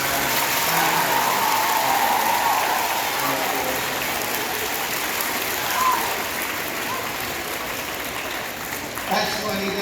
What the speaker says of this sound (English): That's the only one I saw the teachers clapping on.